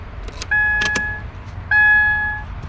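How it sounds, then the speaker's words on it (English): Two separate electronic chimes, each a clear steady tone lasting under a second, sound as the ignition key is switched on in a 2013 Subaru Forester, with small clicks and jingling keys in between. "Let's put the key on"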